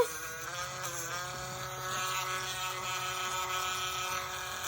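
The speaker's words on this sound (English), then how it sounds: "So I have my Dremel on at 15 RPM." A Dremel rotary tool set to 15 RPM grinds a nail, a steady close buzzing whine that runs continuously and swells slightly partway through.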